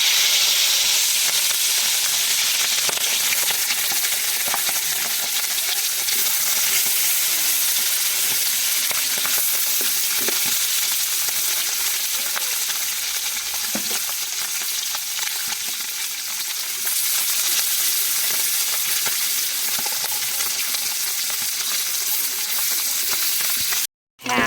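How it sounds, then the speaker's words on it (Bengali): Puti fish fry in hot oil in a pan, giving a loud, continuous bright sizzle and hiss that stays steady throughout before cutting off abruptly at the very end. "এখন তেলের ভিতরে আমরা পুঁটি মাছটা দেব ভেজে নেওয়ার জন্য"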